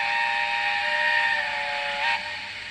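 A Hornby TT:120 model steam locomotive gives a steady synthetic steam whistle, a sustained multi-tone note over a soft hiss that holds for about two seconds, then cuts off.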